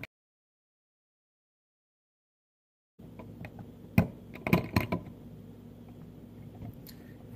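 A carving knife cuts into a stone Chinese name seal in a live workshop, making short gritty scraping and crunching strokes in irregular bursts, close and moderately loud, after about three seconds of silence.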